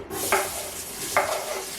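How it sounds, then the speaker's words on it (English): Onions sizzle in hot oil inside an Instant Pot, a steady close frying hiss broken by two brief louder bursts of stirring. "In goes the onions"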